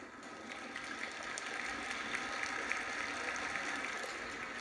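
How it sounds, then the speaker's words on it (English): Applause for a conductor walking on stage before a Mendelssohn piano concerto in Edmonton, heard faintly through a backstage monitor as a steady, distant wash of clapping. "This is the applause for the conductor going on stage."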